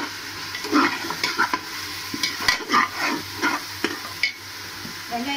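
Ginger garlic paste frying in oil with green chilies for veg pulao, a steady sizzle with a run of quick scraping stirs, close by and without voices.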